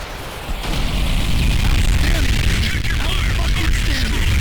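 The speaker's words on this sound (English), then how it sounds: "each explosion feels like an airstrike, and each airstrike feels like a mini nuke" Explosions and airstrikes from a Call of Duty campaign build into a loud, sustained rumble of booms and blasts, dense and continuous after a brief quieter start.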